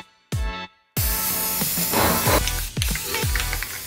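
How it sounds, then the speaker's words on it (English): Spray paint hissing out of an aerosol can as old closet items are coated white, coming in several close, loud bursts of broadband spray with brief pauses between them. "we gotta spray paint all this ugly stuff right here white"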